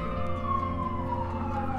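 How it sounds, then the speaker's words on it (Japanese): Fire engine siren wailing close by from a nearby fire station, a loud, steady, continuous wail with a slowly falling pitch sweep, heard alone over low rumbling traffic. "消防車がちょっとうるさいですけれども、近くにね消防署があるんですよ。"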